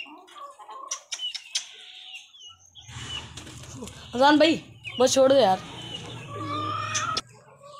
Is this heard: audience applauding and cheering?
no